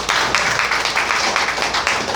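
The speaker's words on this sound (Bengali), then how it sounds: "জোরে একটা হাততালি চাই।" An audience claps together at a speaker's call during a lecture, a dense sustained wash of many hands, loud and steady with faint rhythmic pulses throughout.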